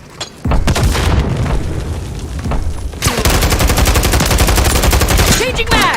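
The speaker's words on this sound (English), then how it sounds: "Grenade out!" Grenade blast and gunfire in the shooter Call of Duty MW III, with loud booming bursts and rapid automatic fire filling the whole stretch, a second heavy impact partway through, and brief voices under the din.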